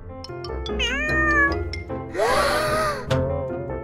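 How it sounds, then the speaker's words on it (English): Black cat meowing loudly nearby, several drawn-out meows and a longer wailing cry, with short gasps and sounds between them. "it's a black cat."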